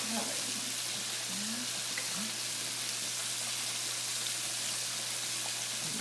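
Pork chops fry in a pan on high heat, giving a steady, close hiss and crackle that holds evenly throughout, with a faint voice briefly audible near the start.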